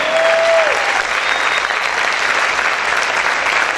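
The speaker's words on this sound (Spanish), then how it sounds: "Aplaude, aplaude, aplaude, aplaude." A church congregation keeps up sustained, even clapping, a thick wall of many hands with a brief voice or tone near the start.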